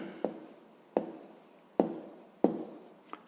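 Pen or chalk writing numbers by hand, four distinct sharp strokes at regular intervals followed by a faint fifth tap, close and isolated in a quiet room.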